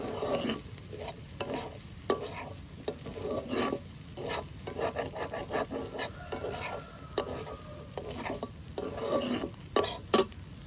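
Egg and potato roll filling being stirred in a pan with ground black pepper: repeated close scraping strokes of a spatula over a soft sizzle, with no voices.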